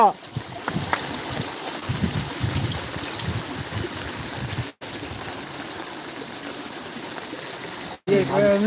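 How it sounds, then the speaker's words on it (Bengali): A stream's current rushes steadily and close by during rain while friends fish, a continuous watery hiss with voices talking over it. "জলের স্রোতটা দেখাচ্ছি আমরা"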